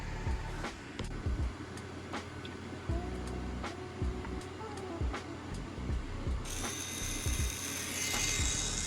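A 3D printer whirs and ticks through stepper-motor moves while printing a part for an automatic card dealer, a busy mechanical chatter with rhythmic clicks and a brighter hiss toward the end.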